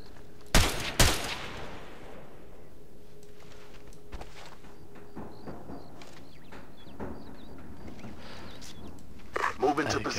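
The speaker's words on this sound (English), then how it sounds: "we're about to get shot up some more" Gunfire in the military shooter Ghost Recon Advanced Warfighter: two sharp, loud shots early on, then quieter scattered distant firing and mechanical clatter under a low battlefield ambience, with another burst of activity near the end.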